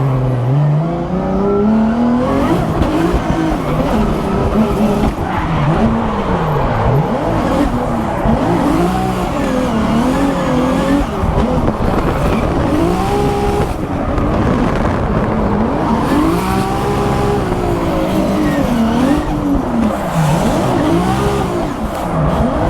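Formula Drift car on a competition chase run, engine revving hard with wavering pitch as the tires squeal and skid continuously, loud and close throughout.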